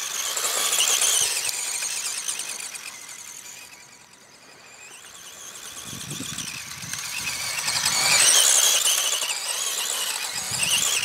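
A Tamiya Grasshopper RC buggy with a rigid rear suspension spins on beach sand, its small electric motor whining in high-pitched, surging bursts that rise, dip and rise again, with scrabbling sand noise beneath.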